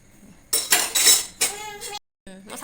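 A metal spoon clinks and scrapes against dishes while Maggi noodles are served, with several bright, close, sharp bursts separated by a brief silence.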